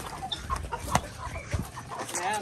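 A chicken clucks in short, uneven bursts close by, with scattered rustling and faint background noise.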